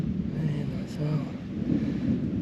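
Thunder rumbles low and steady through a jungle storm, a close, continuous roll blended with wind and rain noise, with no clear voices over it.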